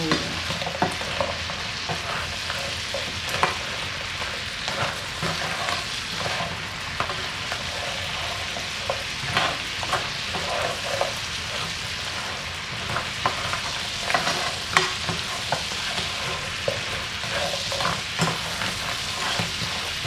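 Crabs stirred in garlic butter in a pan for a seafood boil, with continuous close frying sizzle and frequent clattering scrapes and knocks throughout.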